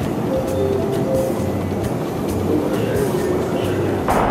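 Moscow metro subway train in motion, a loud steady rumble with rhythmic wheel clatter and faint squeals, close and continuous throughout.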